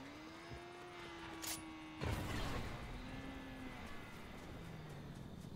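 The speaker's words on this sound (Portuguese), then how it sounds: "Tem alguém com carro aqui, hein, mano." A video game car engine drones at moderate volume, its pitch steady then shifting, with a louder burst of noise partway through as the vehicle moves.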